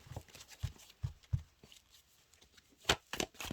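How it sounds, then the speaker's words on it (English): Tarot cards being shuffled by hand, soft irregular riffles and taps at close range, faint and scattered with a few sharper slaps near the end. "I'm just gonna shuffle for a little while longer to see what else wants to come through"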